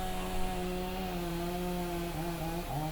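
A chainsaw cutting a black locust tree during a crane-assisted removal in Montreal, its engine holding a steady, buzzing whine with slight pitch drops near the end as the chain bites into the wood.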